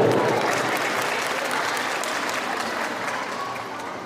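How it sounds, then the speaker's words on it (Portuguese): Dense, steady crowd applause welcoming a municipal councillor at a town hall celebration in São Sebastião do Umbuzeiro, loud and continuous throughout and fading only slightly at the close. "Com aplausos, recebamos a excelentíssima senhora Alcélia Feitosa"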